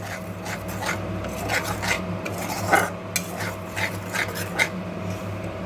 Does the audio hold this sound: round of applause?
no